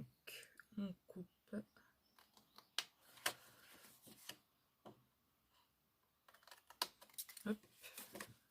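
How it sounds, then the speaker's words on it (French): Scissors snip through small paper squares while folding a gift pouch, giving a series of short, crisp cuts in irregular bursts, close and fairly quiet, with a few soft handling noises between them. "là, on va couper en fait les 4 petits carrés que vous avez en bas"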